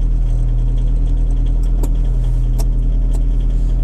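A VW T3 van with a 1Y diesel engine runs at idle after a cold start in freezing weather, a loud steady low rumble with a few faint clicks and ticks over it.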